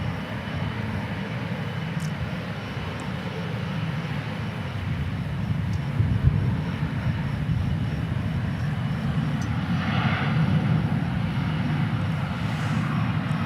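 Korean Air jet airliner on runway 36 right at DFW Airport, its engines a steady broad roar that holds throughout, swelling slightly near the middle, with no talk over it.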